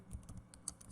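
Java code is typed on a computer keyboard, a brief, very quiet run of quick, irregular key clicks.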